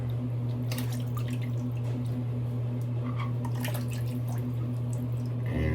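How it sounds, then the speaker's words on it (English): Running water wetting a shaving brush at a sink, with drips and soft squishy splashes over a steady low hum, close and fairly quiet throughout. "So I'm gonna wet the brush here."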